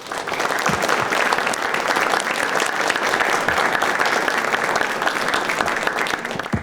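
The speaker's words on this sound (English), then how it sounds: "So let's give them a round of applause." An audience applauds the panelists at the close of a panel discussion on Vienna, Virginia in 1775. The clapping is full, close and continuous, holding steady before easing slightly at the very end.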